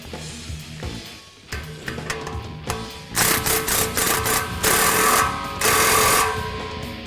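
Power tool tightening fittings on a Ford Performance cat-back 2-1/4-inch touring exhaust kit on a 2015-2017 Mustang, loud repeated mechanical bursts of rattling buzz that grow stronger after the first few seconds, with no talk.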